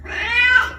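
A kitten gives a single drawn-out meow, close and clear, rising slightly in pitch before fading.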